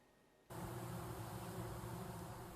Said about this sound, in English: the normally solitary cactus bees gather in large numbers